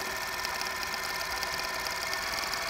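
A sewing machine chain-pieces quilt blocks for a sawtooth star in a continuous, fast, even whir, close and steady throughout with no talking.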